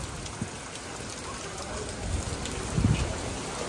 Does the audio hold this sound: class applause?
no